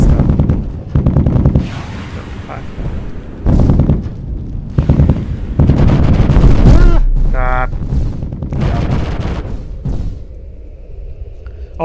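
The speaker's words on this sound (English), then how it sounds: "There's bombs and missiles and lasers and railguns and stuff." Repeated heavy blasts and weapons fire from bombs, missiles, lasers and railguns echo in the multiplayer game Gimbal, coming in separate loud bursts with short gaps between them. Laser-like zaps sound in between, and a person talks over parts of the action.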